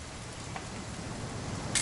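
Rain falls in a PS4 video game as a brief, steady, fairly quiet hiss that carries on evenly without any voices.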